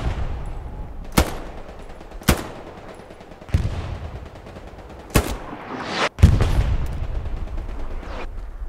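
Artillery bombardment and gunfire in a squad-based war video game, with sharp loud blasts every second or so over a continuous rumble of distant fire, close and forceful, no voices.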